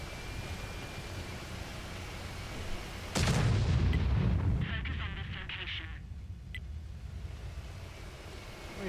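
A tank cannon fires in World of Tanks Modern Armor during a Cold War terrain test, one loud booming blast that rolls off into rumble over a steady wind-like background.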